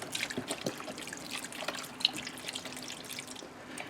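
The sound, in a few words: pouring beef broth into a pot of onions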